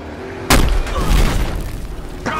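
A police vehicle blows up in the Battlefield Hardline video game: one loud, sudden blast, then a long rumbling, crackling tail of debris and fire, with a fainter second burst near the end.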